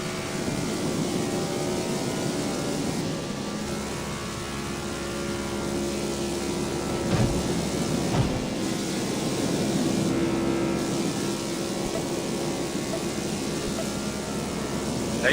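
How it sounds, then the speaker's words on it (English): A steady race car engine drone from the video game NASCAR Rivals hums throughout at an even pitch, with a couple of brief whooshes as something passes by. "The sound of your car itself racing around the track is fine"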